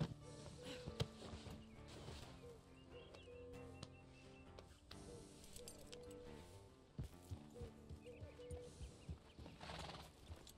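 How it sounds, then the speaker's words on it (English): Two horses clip-clop along at an unhurried walk toward a pasture in the rain, and a whinny rises over the slow, irregular hoofbeats. "I decided to bring both of the horses to the pasture"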